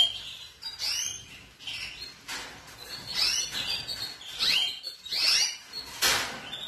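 Canaries, intense yellow and white breeding pairs, sing in a large canary aviary; busy overlapping high chirps and trills come in repeated bursts at moderate distance, with no talk.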